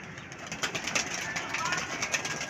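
Pigeons at a hobbyist's rooftop loft being released to fly at six o'clock, their soft cooing and flutter mixed into steady outdoor noise while people talk throughout.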